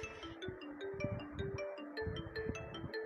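A phone ringtone plays a repeating electronic melody of short, evenly spaced tones during a children's science lesson, moderately faint with no talking over it.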